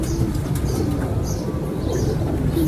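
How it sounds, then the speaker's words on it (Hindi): Tausi breed pigeons coo steadily and close to the microphone, their low murmuring calls layered over soft rustling from a loft setting. "तौसी कबूतर आपको शौक करवा रहे हैं जी"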